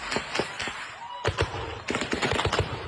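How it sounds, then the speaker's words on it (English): Repeated sharp gunshots in Nigeria after a church service, in irregular bursts, some rapid strings of cracks, with brief gaps between volleys. "every gunshot you're hearing is hitting a person"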